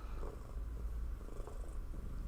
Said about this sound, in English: She's purring hard.